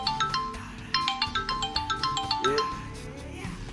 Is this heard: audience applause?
no